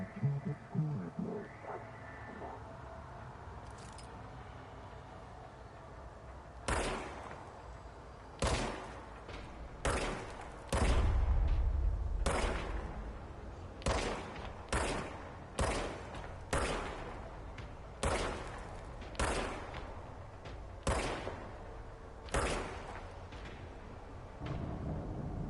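The Service Weapon firing in the video game Control, as a series of sharp, loud single shots spaced a second or two apart, each with a short decaying tail, heard over a quiet ambient background.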